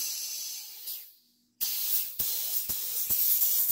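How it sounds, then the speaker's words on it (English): Air from a compressor hisses out around the unseated bead of a flat wheelbarrow tire: a loud, steady rush that fades out, falls silent briefly, then surges back with sharp periodic pops and clicks. "So I hooked up my air compressor to it"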